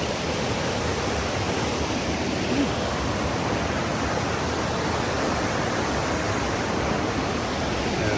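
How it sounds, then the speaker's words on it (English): Stony Brook flows steadily in a continuous broadband rushing hiss, close and even for the whole stretch, with no voices over it, on a cool morning along the Appalachian Trail after rain. "I'm crossing Stony Brook."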